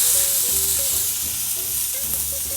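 Thin ostrich steak sizzling steadily in a hot pan, a loud continuous broadband hiss with faint low tonal hum beneath, no talking.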